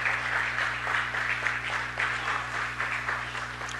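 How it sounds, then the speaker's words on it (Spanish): At a city council meeting, the audience applauds Kadima, a fairly steady wave of moderate clapping over a constant low electrical hum in the room, with no voices above it. "Ustedes pueden darle un gran aplauso."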